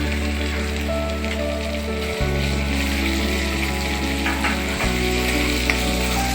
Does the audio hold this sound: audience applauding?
no